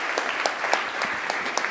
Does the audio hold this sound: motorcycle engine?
no